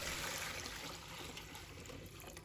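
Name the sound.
clean water poured into a bowl of eggs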